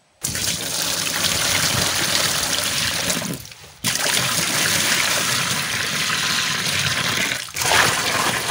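Water gushes and streams steadily into a home fish pond tank, a loud continuous pour that breaks off briefly twice before resuming.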